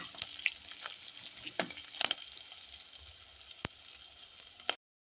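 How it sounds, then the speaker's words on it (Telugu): Onions and mixed vegetables fry in a pan for vegetable dum biryani, giving a steady soft sizzle with a few sharp crackles and spoon clicks, fairly quiet and without talk. "కొంచెం ఫ్రై చేసుకుందాం."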